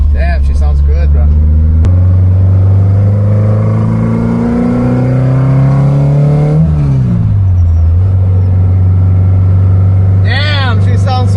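A big high-compression 12:1 3TC engine in a wagon car on Maui runs loud and close, droning with rising and falling revs and a dip near the middle. Brief talk sits at the start and end.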